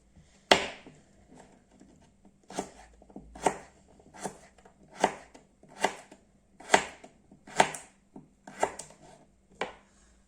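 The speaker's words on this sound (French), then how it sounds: "je les recoupe en deux et je vais les couper en petits bouts" A knife chops carrots into small pieces on a board for Moroccan-style lentils, with about a dozen sharp, close, distinct chops at an uneven, unhurried pace and no talking.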